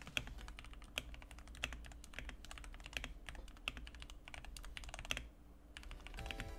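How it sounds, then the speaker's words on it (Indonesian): Fingers type on a Fantech MAXFIT61 mechanical keyboard, producing quick, irregular clacks in a close, continuous stream, with a few louder strokes standing out and no talking. "nila sedikit cicipan untuk apa yang akan datang"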